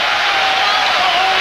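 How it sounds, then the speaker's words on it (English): Arena crowd noise at a 1992 Knicks–Celtics basketball game in Boston, a loud, sustained roar of many voices building steadily. "Crowd starting to make a little noise."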